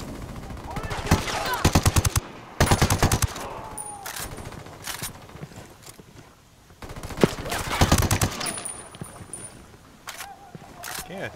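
Rapid automatic gunfire bursts out repeatedly in the video game Ghost Recon Wildlands, with loud rattling volleys separated by quieter gaps and scattered single shots.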